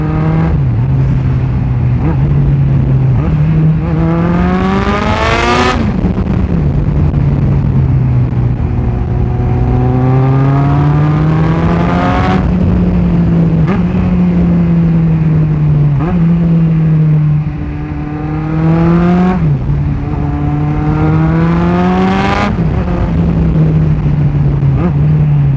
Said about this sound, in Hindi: आई होप कि कैमरे में आपको पूरा दिखाई दिया होगा कि आखिर कैसे किया जाता है रेव मैच